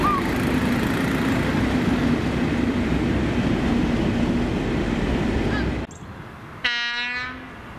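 A train rumbles along steadily on Scottish rails, then after a brief cut its Celtic-sounding horn sounds once, a loud near tonal blast with rich harmonics that fades briefly.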